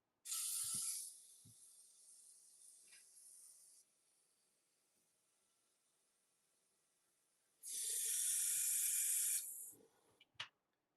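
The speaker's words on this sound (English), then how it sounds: "And now I'm done with this airbrush" An airbrush sprays paint onto a model figure in two sharp, steady hissing bursts, one at the start and one near the end, separated by a long quiet stretch.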